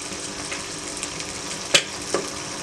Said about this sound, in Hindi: अब हमने इसमें सॉसेस डालनी है।